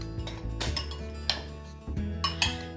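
A utensil clinks and taps against a bowl while avocado is stirred into egg for egg salad, several irregular knocks close by over a faint hum.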